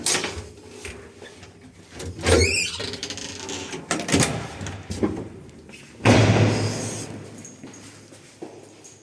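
A pre-war Wertheim elevator's door on Karmelicka street is closed with scattered metallic rattles and knocks, then a heavy slam that rings out and fades, all close and alone.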